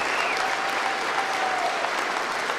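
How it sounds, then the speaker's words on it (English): Rapturous applause and a standing ovation from a crowd in Ireland for the Palestinian ambassador's speech, a continuous, full roar of clapping with faint voices threaded through it. "that's a rapturous round of applause for the Ambassador for Palestine."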